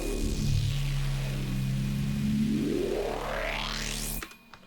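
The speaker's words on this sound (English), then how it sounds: "I believe, a simple serum patch, and then made it so it sweeps using the fruity parametric EQ2." A simple Serum synth patch swept by a parametric EQ, a loud tone whose filter sweeps down then climbs steeply upward over a steady low drone, cutting off abruptly near the end.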